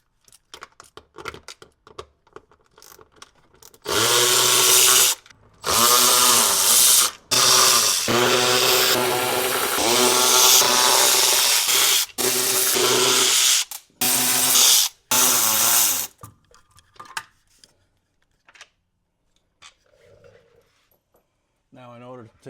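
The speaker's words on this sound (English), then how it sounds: "What I'm using is 8mm and Milwaukee ratchet. This thing is amazing when taking off these bolts." A Milwaukee cordless electric ratchet fitted with an 8mm socket spins off bolts during post-ride maintenance on a desert vehicle, several loud whirring bursts of a few seconds each with brief pauses, then quiet handling sounds.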